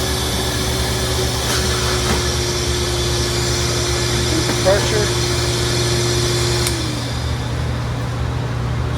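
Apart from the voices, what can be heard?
vacuum seeding machine running in greenhouse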